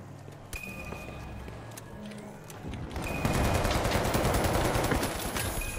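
Gunfire in the video game THE FINALS, with scattered shots early on, then a loud rapid burst of automatic fire over steady in-game background noise.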